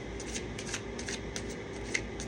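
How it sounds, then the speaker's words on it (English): Tarot cards being shuffled close up, a continuous soft riffling and flicking of card stock with light taps, fairly quiet and heard alone without talk. "Man, this is such a cool way to shuffle my cards"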